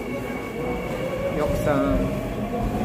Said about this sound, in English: Ayan ang train.